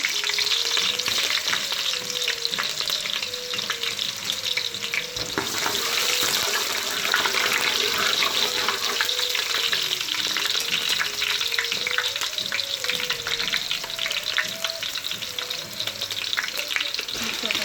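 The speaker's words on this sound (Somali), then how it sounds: "saliid yar aan digsiga ku soo shubanay" Oil heats and fries in a cooking pot while a soup is being made, giving a steady, close sizzle that runs unbroken throughout with no talking.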